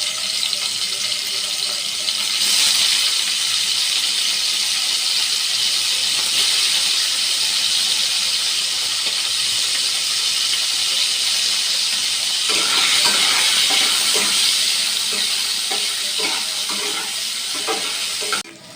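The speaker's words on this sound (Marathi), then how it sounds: "आता यामध्ये आपण पनीर फ्राय करून घेऊया पनीरचे मी छोटे छोटे तुकडे केले" Small pieces of paneer shallow-frying in oil in a home kitchen, a loud continuous sizzle and hiss throughout, with faint scraping and stirring noises toward the end.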